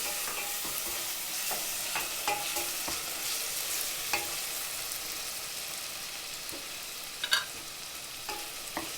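Onions and tomato sizzle steadily in a hot pan, with occasional scrapes and clinks of a utensil stirring.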